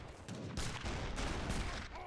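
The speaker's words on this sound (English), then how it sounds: "Boom! Those heavy cannons." Heavy cannons and culverin artillery fire in the Rio Grande strategy game, a dense, continuous barrage of booming shots with sharp bursts at roughly half-second intervals.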